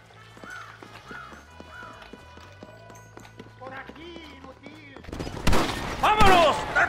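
Horses gallop in the Red Dead Redemption video game, with rhythmic hoofbeats under music and voices, then a burst of gunfire and louder action near the end.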